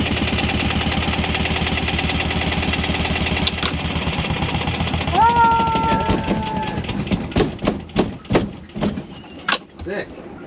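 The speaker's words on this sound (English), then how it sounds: "engine's on and has been running for a bit" Boat engine idling steadily aboard an anchored sailboat in Vanuatu, a loud rhythmic drone that cuts out partway through, followed by a brief whine and several sharp clunks and knocks.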